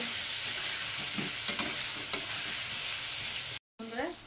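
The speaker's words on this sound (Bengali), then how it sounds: "পটলগুলো তো এদিকে ভাজা হচ্ছে" Pointed gourd (potol) frying in a pan for a vegetarian mung-dal potol dish, giving a steady, moderately quiet sizzle with soft stirring scrapes, a brief cut near the end, no talking.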